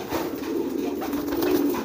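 A domestic pigeon sits on its eggs and coos in a low, steady, rolling voice, close by and continuous, with a slight swell near the end and no talking.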